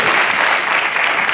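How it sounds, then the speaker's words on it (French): A French television talk show studio audience bursts into brief, loud applause, a thick continuous patter of clapping that fills the moment without any voices over it. "ça s'applaudit, hein"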